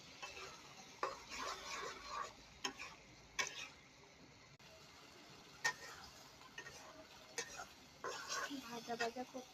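Spices and goat or beef brain fry quietly in a pan while a utensil stirs them. Sporadic scrapes and clicks rise over a faint, soft sizzle.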